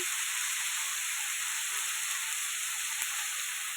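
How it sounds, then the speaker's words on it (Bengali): Spring onion and potato frying in a pan, a steady close sizzle and hiss that holds evenly throughout with no pauses and no voices. "পেঁয়াজ কলি আলু ভাজা হচ্ছে"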